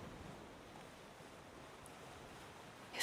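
Ocean waves wash in as a faint, continuous broadband roar that stays even throughout, with no voices over it.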